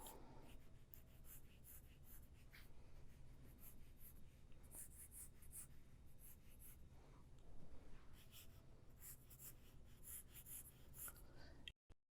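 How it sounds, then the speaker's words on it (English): Pencil sketching very lightly on paper while drawing a car-design perspective cube, a faint continuous scratchy rustle with soft strokes, close and quiet for about twelve seconds. "you can see I've been sketching very lightly"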